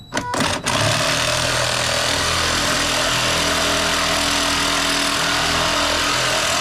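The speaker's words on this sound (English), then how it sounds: "So got a hacksaw, or actually a sawzall." A reciprocating saw fitted with a metal-cutting blade saws through the metal wheel shaft of a Lifetime Yukon fishing kayak, a steady loud buzzing grind running continuously after a couple of brief starts at the beginning.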